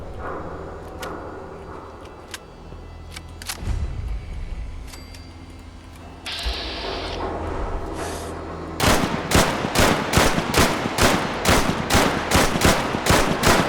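Gunfire rings out in the video game Fallout 4, first scattered single shots over background engine-like rumble, then a loud, rapid series of evenly spaced bursts like automatic fire toward the end.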